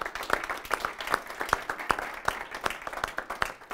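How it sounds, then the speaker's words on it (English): Scattered clapping from a small audience, a sparse handful of sharp, uneven claps spaced irregularly, fairly close and moderately quiet. "Please do give yourselves a big round of applause."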